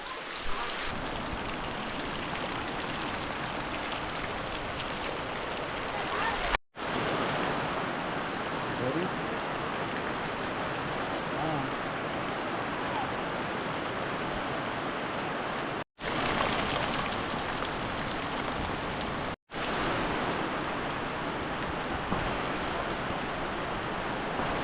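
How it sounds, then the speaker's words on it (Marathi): Heavy monsoon downpour in Konkan, a dense, hissing roar of rain on surfaces that stays loud and constant, broken by a few abrupt silent cuts. "पाऊस आला जोरात पाऊस"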